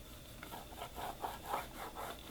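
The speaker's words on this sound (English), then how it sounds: "Just taking a ruler and a fabric marker here" A fabric marker is drawn along a ruler on cloth, making a faint, soft rubbing scratch in several short repeated strokes over quiet room tone, with no talking.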